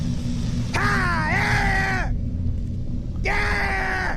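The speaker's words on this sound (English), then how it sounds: "These growling sounds you hear are from 6 to 10 yards away," Deep, drawn-out growling groans from 6 to 10 yards away in the woods rise and fall in two long bursts over a steady low rumble.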